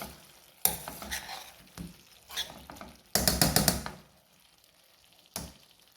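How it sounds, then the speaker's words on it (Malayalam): Tomatoes stirred in a pan for chicken curry: intermittent scraping spoon strokes over a soft sizzle, with a louder burst of rapid stirring midway and a short final scrape, no voices. "തക്കാളി ഒന്നിങ്ങനെ നന്നായിട്ട് ഇളക്കി കൊടുക്കാം"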